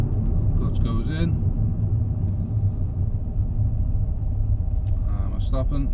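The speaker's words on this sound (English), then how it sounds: "And we're braking, clutch goes in" A car brakes to a stop with the clutch pushed in, giving a continuous close engine and road rumble that stays level throughout, while a voice talks at the start and again near the end.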